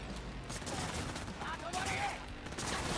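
Rapid fusillade of gunfire from a cannon-type weapon in the video game Cyberpunk 2077, a dense burst of repeated shots that continues throughout the stretch, mixed with game noise and voices talking over it.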